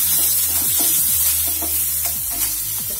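Curry leaves, coriander leaves and chillies frying in hot oil for an onion gojju, making a steady close sizzle broken by repeated stirring scrapes in the pan.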